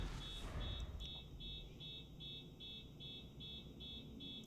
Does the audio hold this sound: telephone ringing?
no